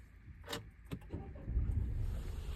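A 2022 Citroën C3 Aircross Shine being switched on from inside the cabin: a couple of sharp clicks and a brief jangle of keys, followed by a low, steady electrical and mechanical hum as the system powers up, with no talking.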